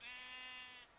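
Sheep in a Minecraft-style video game giving a single short, faint bleat that lasts about a second and is heard alone.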